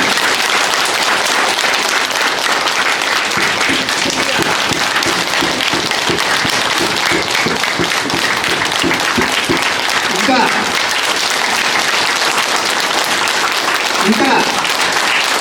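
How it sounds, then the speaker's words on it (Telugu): Loud, sustained audience clapping at a spiritual gathering, at first a dense wash and then settling into a strong rhythmic unison beat, with a voice calling out briefly near the end. "గట్టిగా క్లాప్స్ ఇద్దాం"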